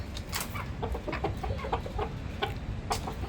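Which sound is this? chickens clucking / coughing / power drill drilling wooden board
chickens clucking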